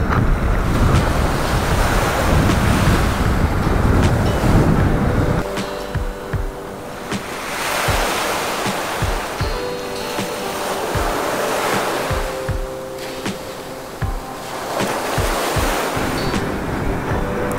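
Ocean surf rolls in and breaks on a rocky beach at Cisolok, Palabuhan Ratu, in loud repeated washes of water with strong wind buffeting the microphone between the wave crashes.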